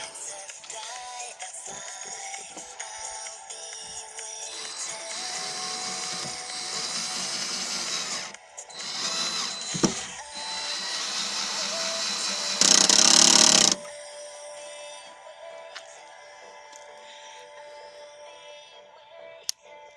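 A cordless drill-driver whirs steadily at close range, with a sharper, louder burst of high-pitched grinding midway before settling back to a lower running hum.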